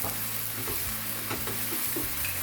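Masala spice paste frying and being stirred in a pan for malai chicken, with a steady close sizzle and scraping stir strokes throughout, no voices.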